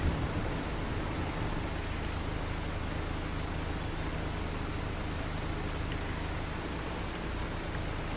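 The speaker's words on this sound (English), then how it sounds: "Get this rain to stop and let's have some fun with this." Steady rain falling in Farming Simulator 25, a dense, even hiss with a low rumble that continues unbroken at constant loudness, with no voices over it.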